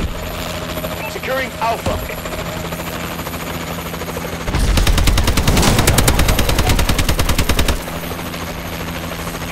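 Heavy rapid gunfire and rotor roar from a Warbird attack helicopter in a Call of Duty match, a dense loud burst lasting about three seconds after quieter game noise, with a brief radio-style voice line.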